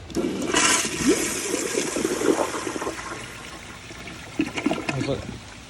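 A Kohler Kingston toilet with a water guard flushes powerfully in a rushing surge of water that tapers into trickling and refilling. The sound is close and steady, and a voice is heard faintly under it.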